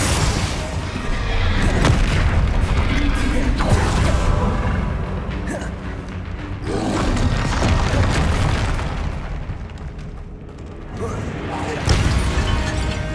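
Explosive spell blasts from Hogwarts Legacy go off in loud repeated booms and crashing bursts, mixed with in-game music and effects throughout, with voices calling out in between.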